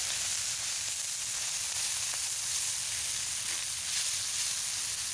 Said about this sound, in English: Got the sausage going. So we'll get it browned up.